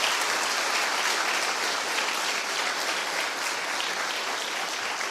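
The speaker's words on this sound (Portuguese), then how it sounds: "Vamos aplaudir o nosso Deus bem forte." A church congregation at a New Year's worship service claps loudly and continuously, a thick, even wall of applause filling the room without pause.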